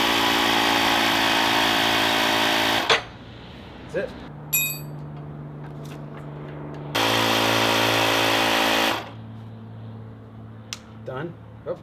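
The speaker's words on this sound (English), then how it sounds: "So I've got my little Ryobi air compressor here." Small Ryobi air compressor pressurizing the lift cylinders of a QuickJack car lift in a garage, loud steady motor drone in two bursts with quieter clinks and handling noises between them.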